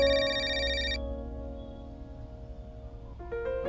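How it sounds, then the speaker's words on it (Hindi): A phone rings in a Punjabi short drama: a steady electronic ringtone plays throughout, shifting to a new tone pattern near the end, with no talking. "फोन।"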